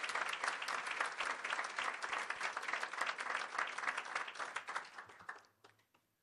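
Audience at a community awards breakfast applauding an absent scholarship honoree, a full, steady round of clapping that fades out near the end.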